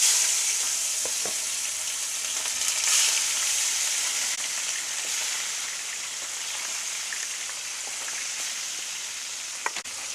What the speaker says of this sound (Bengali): বন্ধুরা তেল গরম হয়ে গেছে, গ্যাসের ফ্লেমটা এই সময় একটু কম করে দিয়ে আর মাছগুলোকে ছাড়বো।